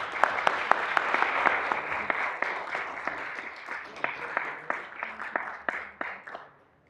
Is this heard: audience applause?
yes